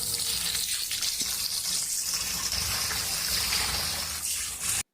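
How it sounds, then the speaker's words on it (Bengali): Steady rushing, splashing water from start to finish as cut gulsha fish pieces are washed in a bowl in a home kitchen, loud and close, with no talk over it. "মাছ কাটাগুলো শেষ, এখন আমি এগুলো ধুয়ে নেব।"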